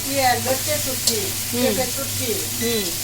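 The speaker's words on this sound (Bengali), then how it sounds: "রসুন পাতা পেঁয়াজ পাতা দিয়ে ভেজে নেওয়া হচ্ছে" Dried fish fries with garlic leaves and onion leaves, a steady sizzle running under a voice that talks over most of the clip.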